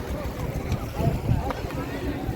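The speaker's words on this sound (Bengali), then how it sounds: "আমাদের সারাদিন এই নৌকাটা ছিল ট্রলারটা" A motor trawler boat on the lake waters at Rangamati carries a steady low engine rumble with wind buffeting the microphone, running continuously under nearby talk.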